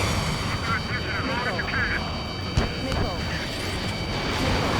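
Aircraft weapons in Ace Combat 7 fire as jets roar overhead, with gun bursts and sharp impact cracks over a thick engine drone, in a close, busy battle mix.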